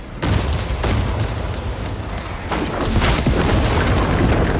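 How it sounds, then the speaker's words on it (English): Grenade blasts in the video game Warhammer 40000: Space Marine 2 erupt as a series of heavy booms, with sharp gunfire-like bursts layered over a steady, dense battle rumble. "Grenade out!"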